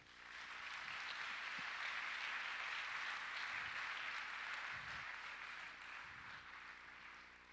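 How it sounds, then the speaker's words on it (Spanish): Church congregation applauding their God, a broad sustained wash of many clapping hands that stays even and fairly distant throughout, with faint low voices and shuffling beneath. "Démosle un aplauso a nuestro Dios."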